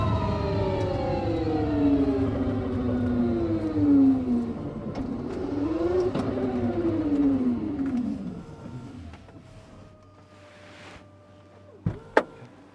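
An Aspark Owl electric hypercar accelerates hard, its electric motors giving off a loud mechanical whine that sweeps upward in pitch in repeated surges, then fades away, ending with a couple of sharp clicks.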